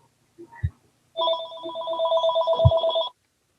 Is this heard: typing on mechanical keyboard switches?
no